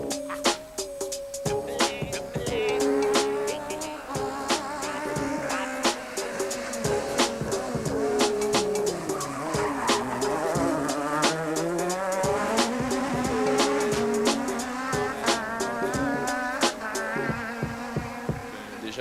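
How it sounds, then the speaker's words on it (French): A Renault Mégane rally car with a sequential gearbox is tested on a fast special stage, its engine revving hard and rising and falling through quick gear changes with sharp shift cracks, moderately close. "c'est le temps des essais avec les voitures de course"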